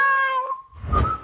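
A cat character in the video game Space Action lets out a single clear, drawn-out meow, followed by a brief soft thump and rustle.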